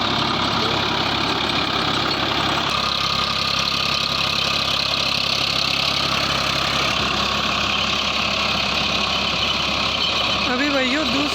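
Loud, steady diesel roar from a Farmtrac 60 PowerMaxx tractor pulling an 8-foot Farmtrac rotavator in second low gear, heard close with a small change in engine load midway and someone talking over it.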